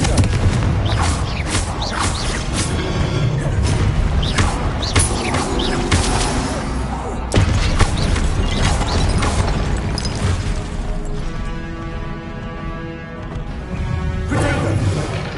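Repeated Confringo spell blasts from Hogwarts Legacy on PS5, a steady run of booming bursts and crackling impacts over about fifteen seconds of loud, dense combat.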